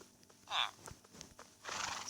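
A horse in the Minecraft video game lets out a short, bright whinny, followed by softer scattered game noises and a second rising whinny-like burst toward the end, all at moderate volume.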